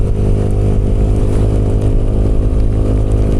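Motorcycle ridden on a slippery, potholed road with little-used tires, a loud steady mid-pitched engine drone with rumbling low end throughout, close and continuous, no voices.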